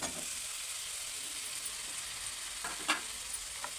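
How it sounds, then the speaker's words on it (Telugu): Potato and bottle gourd pieces frying in oil with turmeric, ginger-garlic paste in the pan, giving a steady soft sizzle and hiss, with a couple of faint scrapes near the end. "మనము పొటాటో ఇంకా సొరకాయ వేయించుకునేది వేసుకుందాం"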